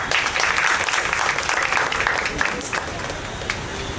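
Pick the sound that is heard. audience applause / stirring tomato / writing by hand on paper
audience applause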